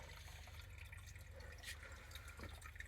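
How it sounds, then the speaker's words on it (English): A toilet flushed with a dry bowl gives a quiet, steady watery rush and trickle with faint drips, low and continuous, with no voices. "This toilet doesn't like dry bowl flushing."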